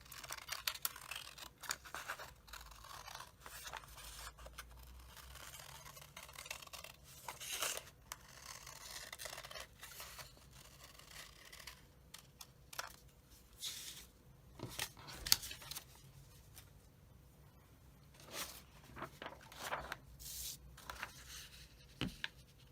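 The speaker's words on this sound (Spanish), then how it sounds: "voy a cortar con el papel doblado por la línea naranja, que es mi margen de costura" Scissors cut through folded paper along an orange seam line of a sewing pattern for a kitchen cap, producing quiet repeated snipping and rustling strokes, close but faint, with no talking.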